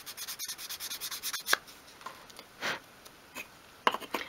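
Sandpaper rubbing a bevel onto the edges of a tiny 1/12 scale drawer front, heard as close, soft, repeated scratchy strokes in a quick back-and-forth rhythm with a few brief pauses; no talking.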